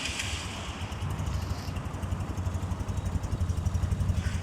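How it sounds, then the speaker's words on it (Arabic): A Toki Cycle engine idles steadily, a low pulsing mechanical chug with a rapid regular beat, close and continuous; the vehicle is an Egyptian-made seven-passenger people carrier. "صوت المحرك،"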